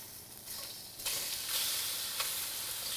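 Shrimp hit hot oil in a pan, a soft sizzle that swells into a bright, steady hiss with faint stirring scrapes, no voices.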